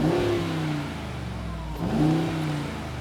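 A parked 2020 Mercedes G63 V8 BiTurbo with its switchable exhaust valves open revs twice, each blip rising sharply then falling back to a deep, rumbling idle, close and loud.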